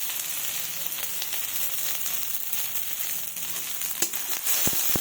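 Slit green chilies and nigella seeds fry in hot oil with a continuous close sizzle, broken by sharp crackles and pops toward the end.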